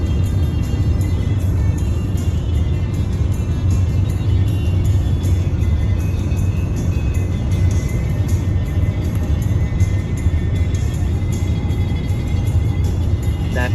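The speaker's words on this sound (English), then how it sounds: "That car, that blue car over there, they're fast." Steady, loud road noise of a car moving along a road fills the whole stretch as one unbroken roar, with no distinct single pass-by standing out.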